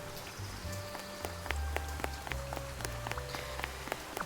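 Steady rain falls in the video game Duck Detective, with scattered raindrop ticks on a surface over low music, continuous and moderately close throughout.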